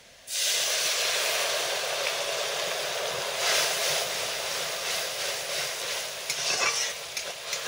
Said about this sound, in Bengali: এবারে আমি মশলাটা দিয়ে দেবো। এখানে আছে সর্ষে বাটা, হলুদ, লঙ্কা একসঙ্গে গুলানো